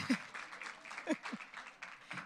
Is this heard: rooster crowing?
no